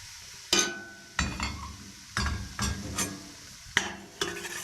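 Flour being toasted and stirred in a hot pan for béchamel sauce, with a spoon scraping and clinking against the pan in repeated sweeps over a soft sizzle, close and fairly loud with no talk.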